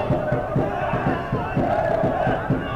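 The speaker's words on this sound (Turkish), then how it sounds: "Yeşilova seyircisi, azınlık seyirci hiç susmadı" A small group of away fans of Yeşilovaspor chanting at a lower-league football match against Hendekspor, with a rhythmic, pulsing chant of rough voices, steady and fairly near, and a commentator talking over it.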